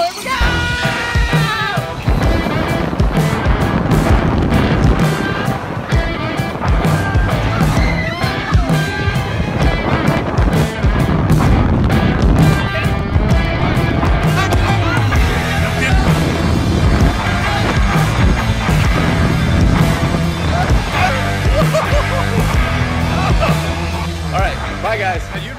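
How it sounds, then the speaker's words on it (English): Incredicoaster roller coaster ride, a loud continuous rush of wheels, track rumble and wind with riders shouting and yelling throughout the run. "we are live on the Incredicoaster. Three, two, one, go!"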